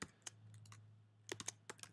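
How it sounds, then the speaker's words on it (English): Typing on a computer keyboard, with scattered sharp key clicks in two short bursts over a steady low hum, close and fairly quiet, with no speech. "I'm just going to type this one in. I'm typing in that right there."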